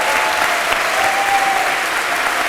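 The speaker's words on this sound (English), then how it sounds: "let's hear a round of applause for the whole event tonight and our panelists" An audience at a public debate on rent control in Seattle breaks into sustained applause, a thick even wash of clapping that stays loud from start to finish.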